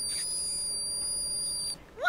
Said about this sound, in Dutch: je kunt dus eigenlijk gewoon door je oren heen fluiten